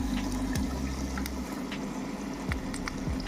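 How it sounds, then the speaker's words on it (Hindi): Water pump driving a strong flow of water through a homemade PVC pipe air cooler, a steady gushing, splashing rush with low hum, continuous and close, with a few brief knocks and clicks. "देखो भाई, पंप चलने लगा हमारा, और पानी कितना प्रेशर से आ रहा है आपको आवाज़ सुनाई देगा।"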